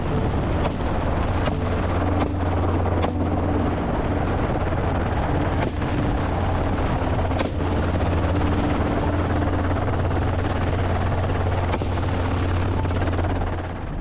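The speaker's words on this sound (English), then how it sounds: "hunters can track and take down wild boars from the air" A helicopter used for hunting wild boars drones steadily overhead, its low rotor thump and engine roar continuous and loud throughout, with some wind buffeting.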